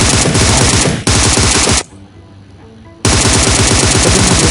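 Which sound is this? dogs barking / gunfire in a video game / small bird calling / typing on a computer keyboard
gunfire in a video game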